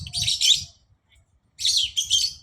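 Bright bird chirps come in two quick bursts separated by a pause, with low background rumble underneath.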